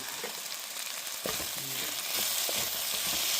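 Fried eggplant goes into a hot pan with chili paste, and a steady sizzle and frying crackle rise slightly as it lands, joined by a few stirring scrapes.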